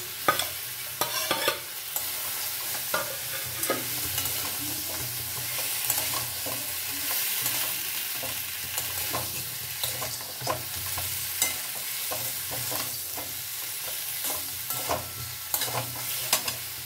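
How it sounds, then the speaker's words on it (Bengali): Fried vegetables and bori are stirred in a pan for charchori, a soft continuous sizzle broken by repeated scraping clinks of a spatula throughout. "এবারে আমি যে ভেজে রাখা সব সবজিগুলো এমনকি বড়িও এর মধ্যে অ্যাড করে দিলাম।"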